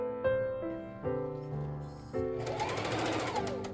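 Sewing machine stitching flat fell seams on a satin skirt made from thrifted fabric scraps, a steady close motor hum with shifting pitch through several short runs, ending in a busier, brighter whir.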